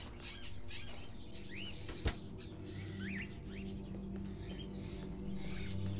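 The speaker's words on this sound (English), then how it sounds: "The bird doesn't sound so good." Agitated bird chirps in the video game Fahrenheit, sharp rising tweets scattered over a low ambient drone, with one sudden thump midway.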